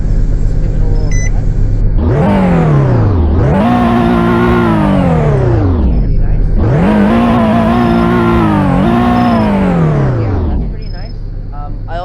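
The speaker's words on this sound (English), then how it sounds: "Let's give it a little rev." A sporty car in the Roblox game Greenville revs its engine twice in quick succession, each pass a loud rising and falling whine, with a steady idle hum between and after.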